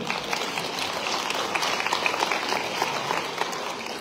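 Audience applause at a municipal New Year address in France, a continuous patter of many hands clapping at moderate distance, fairly even throughout.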